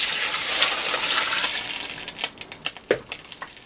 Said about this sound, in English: I'm going to pour some water.